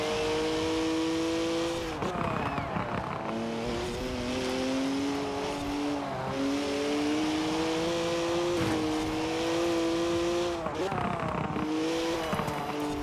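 A car in the racing game Forza Horizon 4 revs and drives, its engine note rising and falling through gear changes, with someone talking over it throughout.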